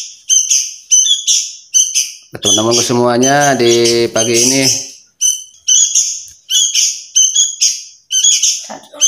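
A 20-day-old sooty-headed bulbul chick calls loudly and close, with repeated sharp chirps and one longer warbling, harmonic cry. Someone talks over the opening chirps.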